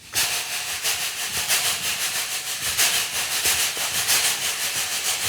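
Rhythmic brushing and hissing from African percussion instruments chugs steadily in imitation of a moving steam train, a continuous scraping pulse with no voices.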